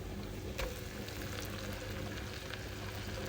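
Pieces of pork sauté in a pan with onion and garlic, giving a soft, steady sizzle and crackle with a few faint pops, heard alone and close.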